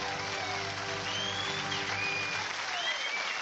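A studio audience applauds and cheers for Michael Gudinski at a 1998 televised tribute show, a dense and steady wash of clapping that keeps going for several seconds with no voice over it.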